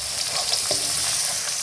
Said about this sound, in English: So I'm just going to mix before I add the minced meat.